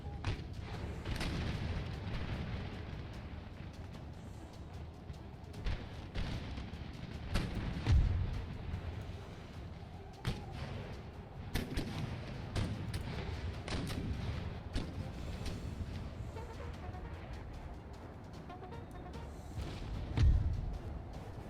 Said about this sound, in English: Have our artillery fire here, where the garrison militia believes themselves to be entrenched.